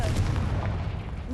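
A Confringo blasting spell cast in Hogwarts Legacy, a short, heavy booming blast that rumbles low and close, with a brief spoken word in the mix.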